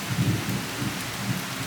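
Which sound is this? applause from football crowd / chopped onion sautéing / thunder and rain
thunder and rain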